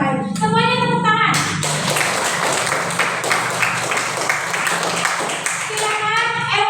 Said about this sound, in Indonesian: Semuanya tepuk tangan.